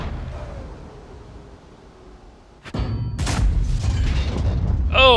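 An ammo rack detonates on a tank in World of Tanks, a sudden sharp boom that breaks a quiet stretch, followed by a sustained roaring rumble of fire and debris that lasts to the end.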